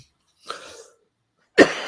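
Two separate coughs, a softer one followed by a louder, harsher one, close to the microphone in otherwise quiet surroundings.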